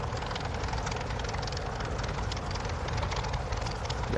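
A P-40F fighter plane taxiing and turning in Microsoft Flight Simulator, its propeller engine giving a continuous, fairly quiet rumbling drone with steady exhaust roughness throughout, no voices.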